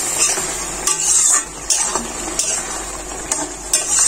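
Taro stem curry with small puti fish and prawns being stirred in a pan, giving a few scraping strokes over a steady low simmering sizzle, close and moderately loud.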